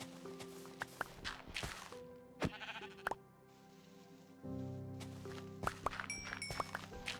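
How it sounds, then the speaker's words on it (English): Minecraft sheep bleat several times in short, separate calls over light footsteps and clicks, with a longer bleat in the middle; no talking. "Sorry, the sheep was annoying, guys."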